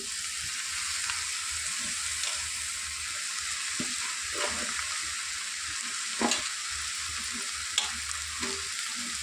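Ginger garlic paste and turmeric frying in hot oil, a constant dense sizzle close up with soft stirring scrapes now and then.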